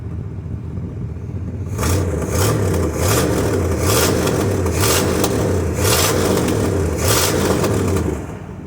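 A 305 V8 in an El Camino idles with a deep, lumpy rumble, its pitch rising and falling in a series of repeated revs. It stays loud and steady throughout, with no voices.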